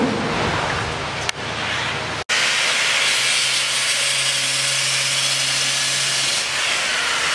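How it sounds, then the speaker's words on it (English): Metal lath for a wood-fired oven dome is cut into sections with a continuous, close, harsh cutting noise, broken briefly by a short gap and a sharp click before it resumes steadily. "he's cutting sections of his lathe so they can be bent and shaped to the oven."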